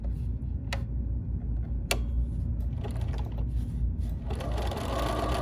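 A BERNINA sewing machine runs a satin stitch with a steady, close mechanical whir and rapid needle ticking, with a couple of sharp clicks along the way.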